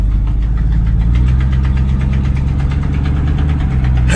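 A 1984 Chevy C10 pickup's engine idles loudly and steadily right after a cold start, with an even pulsing rumble and a slight knock throughout.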